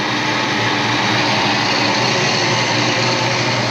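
A Saleen Foxbody Mustang engine runs loud and close, holding a steady, even drone through the whole stretch with no stutter or break in the sound.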